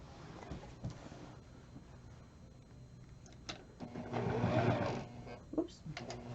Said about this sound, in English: And now we can sew the rest of our binding on.